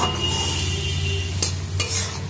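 Vegetables frying in a pan with mustard paste, cumin and a green chili, a steady close sizzle with stirring scrapes and two brief louder clinks of a utensil against the pan.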